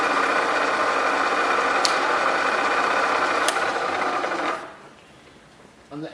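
A 1 HP Bridgeport 9 x 42 inch vertical milling machine runs its table power feed with a steady, loud mechanical whir and hum, broken by two sharp clicks; the drive then cuts off and the sound drops sharply, leaving a quiet, near-silent tail.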